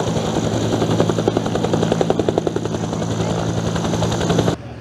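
A record-setting jet-powered truck at an air show roars with a loud, dense engine rumble and rapid pulsing throb, holding steady before cutting off abruptly near the end.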